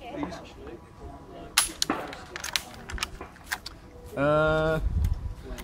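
A rifle trigger is pulled, giving a few sharp, close metallic clicks with quiet stretches between them and faint background talk.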